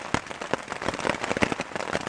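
Steady rain patters on a campsite in Algonquin Park during a canoe trip, a dense wash of close drops and sharper taps on a surface, continuous and fairly soft.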